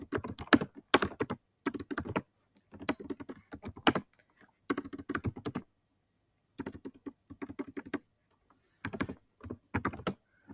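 Bursts of rapid keystrokes on a computer keyboard as a prompt is typed, coming in clusters separated by short pauses, close and clear with no talking.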